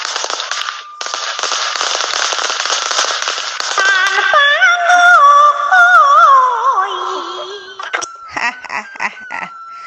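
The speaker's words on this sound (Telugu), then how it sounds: "నే వెలిగిస్తే టపాసులు తెల్లార్లు పేల్తనే పేల్తనే పేల్తనే ఉంటాయి" Diwali firecrackers burn with a loud crackling hiss, then shrill whistling tones rise and waver, ending with a few short sharp pops.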